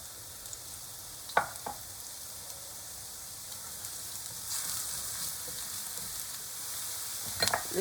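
Shallots fry in fat in a pan with a steady, close sizzle, broken by a few sharp clinks and spatters from stirring.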